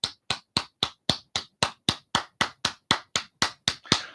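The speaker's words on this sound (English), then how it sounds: "so a round of applause" Steady, evenly spaced claps, about fifteen sharp hand claps in a regular rhythm, ring out close and clear at a church hall quiz night as the winning team defends its title.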